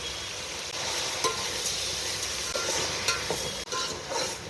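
Eggplant and potato for pulao fry in a pan with a steady close sizzle, while occasional stirring scrapes and clicks cut through the hiss.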